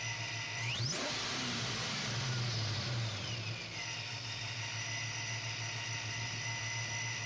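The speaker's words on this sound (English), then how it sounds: "Tapping the throttle results in a satisfying whoom from the engine" A boosted Foxbody Mustang engine gets a quick throttle blip, a rising whoom that peaks and then falls back to a steady idle hum.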